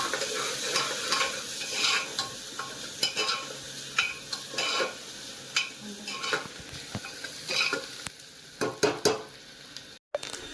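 Crushed garlic sizzles and fries in a pan on a home stove while being stirred, with steady crackling and repeated scraping strokes from a spoon throughout, fairly quiet and close, without talk.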